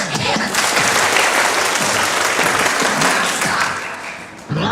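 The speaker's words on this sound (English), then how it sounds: "And everybody clap your hands." Children clapping their hands together in a group, a steady, dense burst of clapping that runs for several seconds, then cuts off briefly and picks up again at the end, with voices mixed in.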